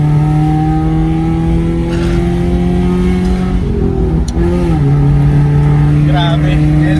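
A car fitted with new mags roars as it speeds off, a loud sustained engine note climbing through gear changes with a brief dip midway, with people talking over it from inside the car.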